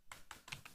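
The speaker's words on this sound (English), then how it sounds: "let me pull up a notepad so everybody can see me typing this up" A computer keyboard clatters out four quick keystrokes in a short burst, close and crisp, with no talking.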